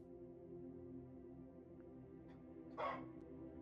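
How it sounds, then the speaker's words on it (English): A single short dog bark from a video game, heard once near the end over a quiet, steady hum of game background sound. "Bark."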